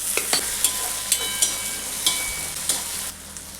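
Tomato added to a hot frying pan of green chillies and peanuts for avalakki, a steady sizzle with a quick series of sharp spatula clicks and scrapes, close and fairly loud.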